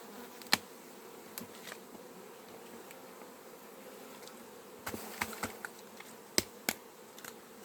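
A low, steady hum of many honeybees buzzing nearby at an open hive, punctuated by occasional sharp clicks and taps.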